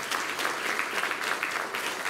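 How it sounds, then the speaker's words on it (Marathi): An audience at a Marathi lecture event gives a burst of steady, dense applause for the speaker, many hands clapping close together throughout. "पण एकदा जोरदार टाळ्या त्यांच्यासाठी."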